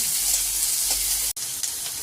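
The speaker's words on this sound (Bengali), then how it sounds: "পেঁয়াজটা ভালো করে ভাজতে হবে।" Onions frying in oil in a pan, a constant close sizzle with a momentary break near the end.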